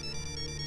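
A phone ringtone plays indoors, a steady electronic melody with bright, sustained tones, moderately loud and continuous for the whole brief moment.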